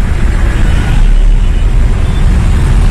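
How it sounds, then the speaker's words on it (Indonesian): A manual car pulling away in congested Surabaya evening traffic, its engine a loud, steady low rumble blended with surrounding road noise and no clear speech. "Lepaskan handbrake, setengah kopling tambah gas."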